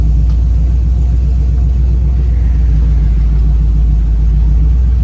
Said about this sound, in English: I gotta stay on the gas a little bit while I'm going from park to drive.